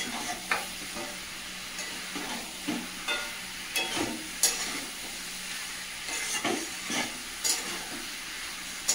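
Fried meat and potatoes are stirred into spiced oil, a soft continuous sizzle broken by rhythmic scraping and clattering of a spatula against the pan.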